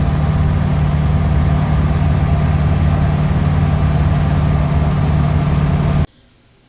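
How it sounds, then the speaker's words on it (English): A diesel vehicle on a test drive, a loud, steady low engine drone with constant road and cabin rumble, running unbroken until it cuts off abruptly near the end. "And now let's go for a test drive."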